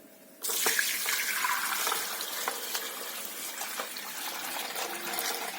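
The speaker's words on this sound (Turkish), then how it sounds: "Şimdi ise süzme aşamasına geçiyoruz." Homemade sour cherry juice is strained, a sudden steady gush and splash of liquid starting abruptly and continuing close and loud, like water pouring into a bowl.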